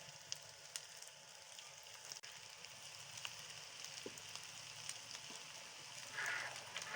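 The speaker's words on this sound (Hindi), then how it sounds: "फुल गर्म घी में ऐड करेंगे इनको।" Potato smiley snacks frying in very hot ghee give a faint, steady sizzle and soft crackle with scattered small pops, quiet and even throughout with no voices.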